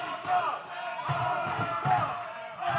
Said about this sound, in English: Crowd chanting OV-dub, OV-dub, trying to will Kal back into this thing